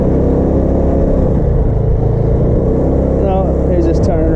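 A car turning around on a road near a parked spot, its engine a steady low rumble under ongoing talk, with a brief rise at the end as it pulls away.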